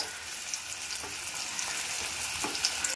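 Food pieces frying one by one in hot white oil in a wok, a close, continuous crackling sizzle with faint stirring clicks, no voices.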